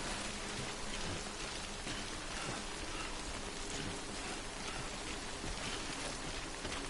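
Steady rain falls in Death Stranding, a dense, even hiss of countless drops pattering on surfaces, continuous and moderately loud with no talk.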